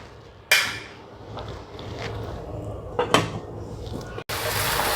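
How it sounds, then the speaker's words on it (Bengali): A lid is set down onto a cooking pot of carrot posto, a traditional Bengali dish, giving a sharp metallic clank followed by a second knock, then a steady close kitchen background. "তাহলে আমি আবার একটু ঢেকে দিই"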